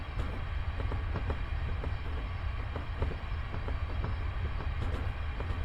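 A train runs on the Fife Circle line near Edinburgh, a steady loud rumble with faint rhythmic clicks of wheels over rail joints throughout.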